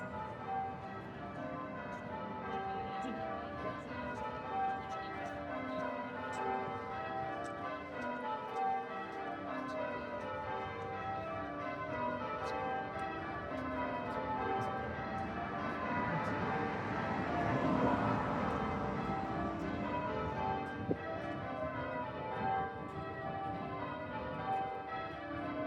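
Church bells peal at St. Patrick's Cathedral in Dublin, heard from across the street. The ringing is continuous, rhythmic and overlapping, at a moderate distance and fairly quiet, under faint street ambience.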